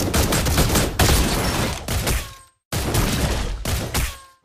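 Granger's crescendo bullet shots in Mobile Legends, heard as quick volleys of loud, sharp gunshots. Two dense bursts are split by a brief silence, and a final shot comes in at the very end.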